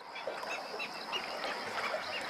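A large breeding colony of flamingos with chicks at a lagoon in Spain, giving a steady chorus of overlapping goose-like honks and nasal calls, moderately distant, with no talking.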